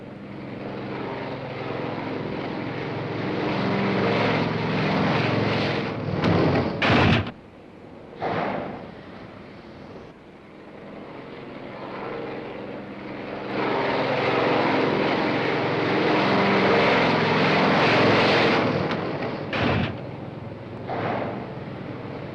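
Propeller aircraft engines drone steadily during landing at sea, a loud sustained roar that swells and dips, broken by a few sharper bangs.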